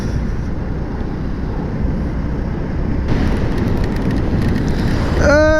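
Heavy rain pours down during a motorcycle ride on a Yamaha MT15 V2, a dense roaring wash of drops that grows louder midway, with a brief rising tonal whine at the very end.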